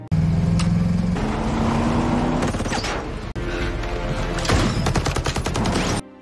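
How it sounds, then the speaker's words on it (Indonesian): Gunfight from the film Ice Road Vengeance during a chase after a bus: loud, dense film mix with bursts of gunfire over roaring engines and mechanical clatter, continuous and intense throughout. "Lagi-lagi adu tembak pun tak terhindarkan."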